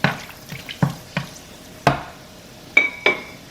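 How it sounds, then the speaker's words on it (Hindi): Whole spices, bay leaf, black pepper and black cardamom, frying in hot oil, with a low sizzle under a series of separate clinks and scrapes of a spoon on the pot, close by and without talk. "तेल मैंने गर्म कर ली है और अब उसमें डाल रही हूँ मैं सारे जो गर्म मसाले हैं वो डाल रही हूँ"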